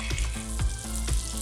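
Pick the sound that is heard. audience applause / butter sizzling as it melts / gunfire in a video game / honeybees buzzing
butter sizzling as it melts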